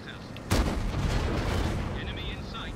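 A tank cannon in a video game fires a single booming shot, followed by a rumbling tail and the ongoing din of battle.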